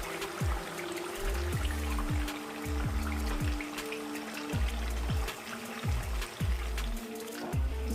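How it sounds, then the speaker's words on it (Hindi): Chicken stock pours into a pot of chicken nihari, a steady soft trickle and splash running under repeated low thuds, fairly quiet and without talk. "इसको भूनने के बाद मैं इसमें जो यखनी थी वो ऐड करूँगी"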